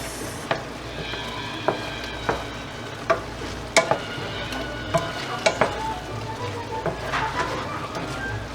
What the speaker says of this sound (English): I'm gonna mix this really quick and see how it looks.